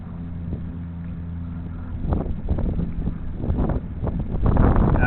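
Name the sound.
wind blowing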